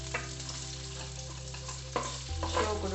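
Red chillies and curry leaves fry in a pan for a Tulu-style mackerel curry, giving a steady sizzle with a few soft stirring clinks and a low background hum, no voices.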